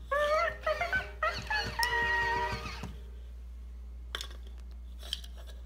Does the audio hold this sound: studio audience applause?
no